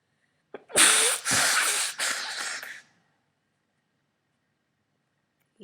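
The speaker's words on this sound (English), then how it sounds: "that awkward moment when you sneeze blood." A sick person sneezes blood: a short intake of breath, then one loud, forceful burst that trails into a few seconds of spluttering, breathy noise before going quiet.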